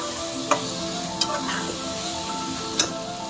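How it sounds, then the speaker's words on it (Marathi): Fresh pigeon peas and chopped potato are stirred into a frying masala. A low sizzle runs throughout, with a few sharp spoon clinks against the pan. "या मसाल्यात हे व्यवस्थित मिक्स करून घ्यायचंय"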